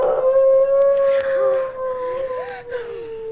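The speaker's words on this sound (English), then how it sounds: "If what made those footprints is doing that howling, then it must be a wolf." A wolf howls in a long, steady, wavering tone from a Halloween sound effects record, with a second voice joining in near the end. No one speaks over it.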